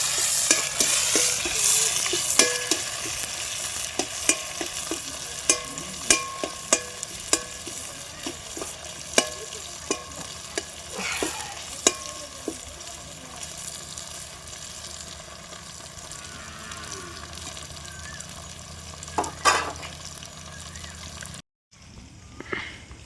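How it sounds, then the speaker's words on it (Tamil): Onions and tomatoes sautéing for a Tamil village-style prawn gravy, with steady sizzling and repeated sharp stirring scrapes in the pan, close and fairly loud throughout, cutting out briefly near the end. "வெங்காயம் நல்லா வதக்கிடுச்சு, அடுத்து தக்காளியை போட்டு வதக்கிடலாம்"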